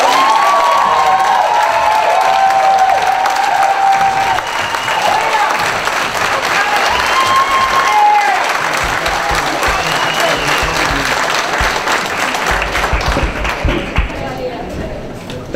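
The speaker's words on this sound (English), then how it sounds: "Let's give these two gentlemen another round of applause." A crowd at a sheriff candidates' debate in Forsyth County, Georgia claps and cheers loudly and continuously, with whistles and shouts over the applause and voices talking underneath.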